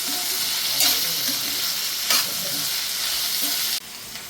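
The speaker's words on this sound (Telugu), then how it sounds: "ఒక్కసారి మొత్తం మిక్స్ అయ్యే విధంగా కలిపేసుకుందాం." Bitter gourd curry with turmeric and salt sizzles steadily in a pan, with a few louder scraping strokes of a spoon mixing it, before the sound drops away near the end.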